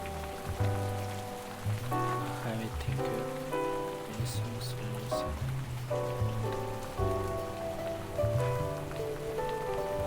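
Pouring rain in the video game Figment 2, a steady wash of downpour running unbroken under layered background music, with no one talking.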